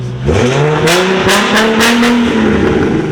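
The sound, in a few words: sports car exhaust revving loudly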